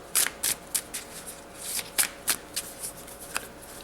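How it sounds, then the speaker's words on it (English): A deck of cards for the board game Atlantic Storm being riffled and shuffled in quick crisp bursts, about a dozen sharp flurries close up with short pauses between them. "I'll just give it just a quick shuffle"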